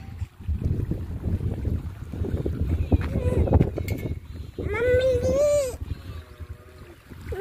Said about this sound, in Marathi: वाव किती छान आवाज येऊ लागला पाण्याचा मस्त